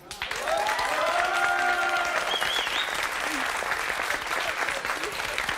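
A studio audience on a television talk show set applauds, a steady wash of clapping starting abruptly and holding loud throughout, with voices calling out over it early on.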